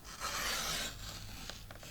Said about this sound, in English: we're going to trim this just to the center line there